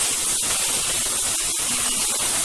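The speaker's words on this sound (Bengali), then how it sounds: "তো আলুটা যতক্ষণে ফ্রাই হচ্ছে" Potatoes frying in a pan for a Bengali home-cooked dish, giving a steady close hiss and crackle of hot oil that runs unbroken, with no voices over it.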